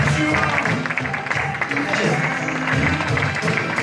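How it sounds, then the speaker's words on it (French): Audience applauding a hypnosis show volunteer, a dense, steady wash of clapping that fills the whole moment, with a voice talking over it. "On l'applaudit très très fort"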